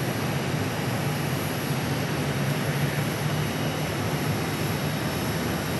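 A Southwest Airlines airliner landing at Phoenix Sky Harbor sends a steady, even roar of jet engines from a distance, holding the same level throughout with no voices.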